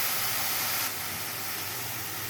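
Tomatoes sizzling in a hot pan give a loud, steady hiss up close, easing slightly partway through and continuing without a break.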